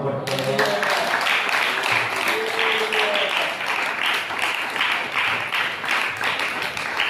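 Loud, steady clapping from a church congregation at an all-night fasting prayer service, sustained rhythmic applause filling the whole stretch with a voice briefly audible at the start.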